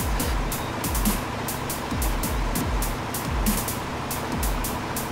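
Truck driving in the Spintires game, a low engine rumble with repeated rhythmic thumps and hissing bursts roughly every half second, steady and moderately quiet, with no talking.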